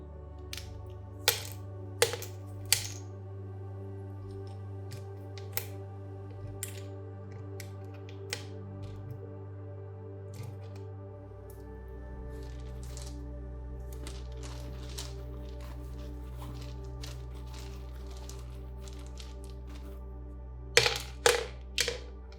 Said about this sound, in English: Let's get more messages with the runes and dice.